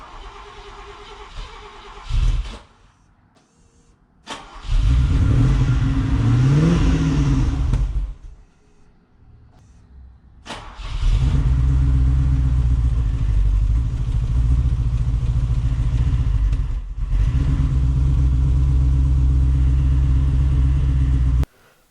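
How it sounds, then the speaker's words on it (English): A Mercedes SL, freshly serviced with cleaned injectors, cranks and fires into a loud, rumbling run with rising revs, cuts out, then restarts and runs steadily at a deep idle with occasional revving. "So I did turn her on last night and made sure she ran, and it went a bit like this."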